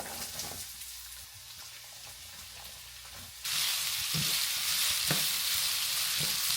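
Chopped onions sizzle loudly in an oiled pan while making butter chicken. A quieter clatter comes first, then a sudden, steady frying hiss with a few soft stirring knocks.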